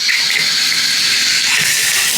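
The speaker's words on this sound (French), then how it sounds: "Je vais me faire un bain" Running water gushes steadily into a bathtub as it fills, a continuous close, bright rushing hiss with no voices.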